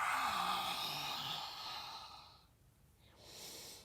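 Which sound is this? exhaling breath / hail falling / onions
exhaling breath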